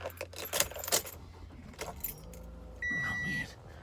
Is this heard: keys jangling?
yes